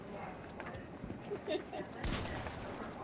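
Gunshots in Fortnite ring out as a scattered volley of sharp reports, one louder crack standing out near the end over a busy background of game noise.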